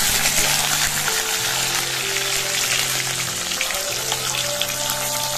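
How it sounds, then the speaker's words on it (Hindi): Paneer frying in hot oil on a stove, giving a loud, steady, dense sizzle that crackles continuously from start to finish, with a faint low hum underneath. "तेल जो है गरम हो चुके, तो सबसे पहले थोड़ा सा पनीर ला फ्राई कर देते हैं"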